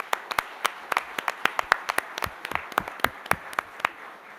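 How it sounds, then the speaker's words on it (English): A small audience claps for panelists at a conference session on Islamic finance, sparse distinct hand claps in an irregular but steady patter, fairly quiet, with no talking. "a round of applause to our distinguished panelists"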